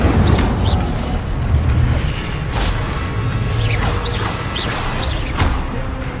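Incendio fire spell cast in the Hogwarts Legacy video game: loud, continuous rumbling blasts and whooshes with crackling bursts and bright chirping magical flourishes.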